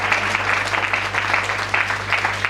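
Audience applause during a church worship service, a steady, dense clapping from a full congregation that carries on without break, with a low steady hum running underneath.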